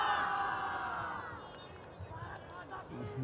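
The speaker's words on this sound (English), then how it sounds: "We see Irish Open team here cheering on Ireland Mix." The Irish Open ultimate frisbee team cheers and whoops from the sidelines for Ireland's mixed team at an under-23 match, a steady, fairly close crowd roar of many voices with shouts rising and falling over outdoor field noise.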